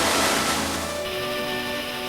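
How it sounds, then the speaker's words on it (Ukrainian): Water pours steadily over the Dzhurynskyi waterfall, about 16 metres high, a dense continuous roar heard close and loud over the brief span. "Так що записуйте, Джуринський водоспад, висота близько 16 метрів."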